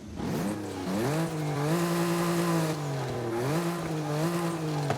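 A BMW i8 sports car engine, upgraded to 614 horsepower, revs continuously in a racing game, pitch climbing and dropping through gear changes, loud and steady with no voices.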